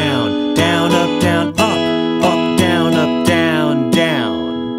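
An acoustic guitar plays a melodic line, with a series of plucked notes and strummed attacks ringing out alone at a close, loud level and gradually fading at the end.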